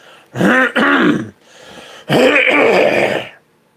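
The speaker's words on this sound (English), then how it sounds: "I'm going to clear my throat" A man clears his throat loudly and close up, with two harsh, rasping bursts separated by a short pause.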